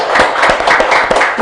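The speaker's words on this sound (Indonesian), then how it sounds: "Berikan tepuk tangan yang luar biasa untuk Camat Talo" Crowd applause for a district head at a Makassar city anniversary event, dense steady clapping from many hands throughout, loud and close.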